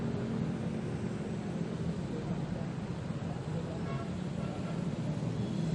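Vehicles move slowly along rain-soaked Commonwealth Avenue in Quezon City after early-morning rain, a steady broadband hiss and rumble of tyres on the wet road that holds level throughout.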